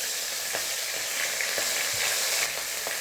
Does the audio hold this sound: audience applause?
no